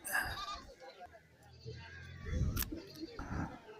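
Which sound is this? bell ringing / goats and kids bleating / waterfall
goats and kids bleating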